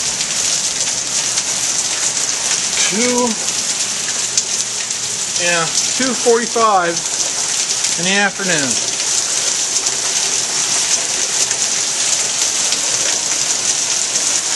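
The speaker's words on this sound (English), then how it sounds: "you can hear the rain coming down" Steady rain pours down continuously throughout a thunderstorm, with someone speaking briefly over it partway through.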